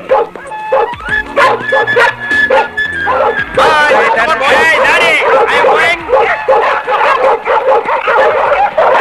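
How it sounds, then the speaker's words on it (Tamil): A new dog straining and pulling on its leash, barking and yipping in a run of short repeated barks with some whimpering, heard over a busy background of voices and music. "புது நாய் இழுக்குது, யாருக்கு கட்டுப்பட மாட்டேங்குது"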